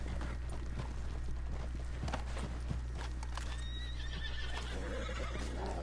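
A horse in Red Dead Redemption 2 whinnies near and clearly, with hoof clip-clops and a low steady hum beneath.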